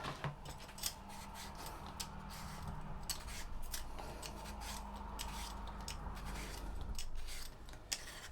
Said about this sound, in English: I'm going to peel the potatoes.